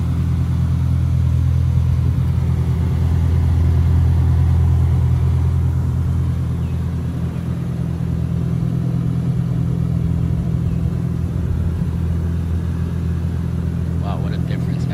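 A Toyota Supra MK4 pulls out, its engine giving a steady, fairly loud low rumble that holds throughout and eases slightly midway.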